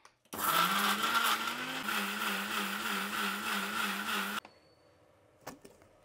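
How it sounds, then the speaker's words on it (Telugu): A mixer grinder blends red chilli for idli chutney, a loud close motor whir with rattling blades that runs steadily for about four seconds and then stops, leaving faint clicks. "ఇప్పుడు దీన్ని మిక్సీ పెట్టేద్దాం."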